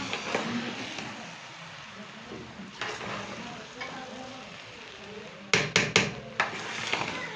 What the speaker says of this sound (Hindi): अब इसको मिक्स करें एंड दम पर रख देंगे।